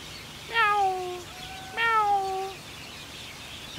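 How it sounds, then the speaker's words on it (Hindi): A cat at a park zoo in Doha, Qatar meows twice, clear and close, each call a drawn-out falling tone separated by a short pause in a quiet room. "तो ऐसा ही म्याऊं म्याऊं करके बोलता है"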